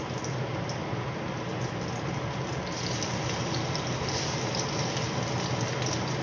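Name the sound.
food frying in a pan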